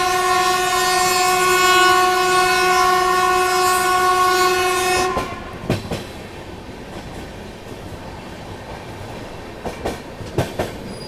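The Bihar Sampark Kranti Express gathers speed on the rails: a long, loud horn blast holds for several seconds, then gives way to steady rumbling wheel clatter with a few sharp clanks.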